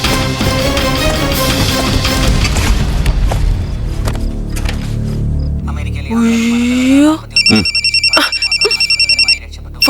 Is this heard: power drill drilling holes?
no